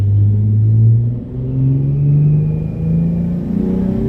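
A loud Nissan 350Z engine drones and revs steadily on a dynamometer, its pitch rising and dipping in long sustained pulls with a deep rumble underneath.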